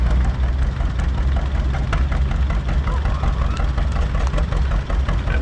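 A 1952 John Deere Model G tractor runs in a parade at Lacombe, its heavy engine giving a loud, steady, low chugging drone up close that continues unbroken throughout.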